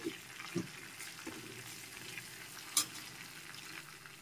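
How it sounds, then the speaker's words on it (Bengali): Two dried red chilies and a pinch of panch phoron five-spice tempering are stir-fried in oil for a snake gourd, potato and prawn curry, giving a faint sizzle with a few soft spatula clicks and scrapes. "এখন ফোড়নটাকে নেড়েচেড়ে ভালো করে ভেজে নিচ্ছি"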